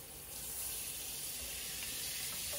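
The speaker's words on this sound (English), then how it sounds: "So I'll give another good rinse." Running tap water splashes steadily into a sink as a bread pan is rinsed clean of soap, a constant hissing rush that starts a moment in and continues with no talk.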